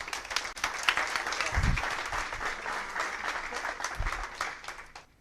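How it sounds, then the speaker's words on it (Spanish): Audience applause in a Spanish-language public speaking masterclass, a steady wash of many hands clapping at moderate distance for about five seconds, with faint low thumps underneath and no talk. "Un aplauso, por favor."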